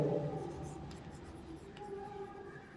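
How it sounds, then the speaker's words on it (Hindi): A marker or chalk scratches across a board in short, faint strokes, layered under a low hum and a background voice in a physics classroom. "इसको पूरा लिख दे रहे हैं"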